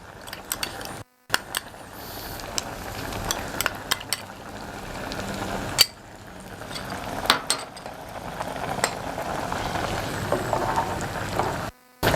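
Soft sizzling and crackling of butter melting in a hot frying pan, steady and close, with occasional utensil clinks and scrapes.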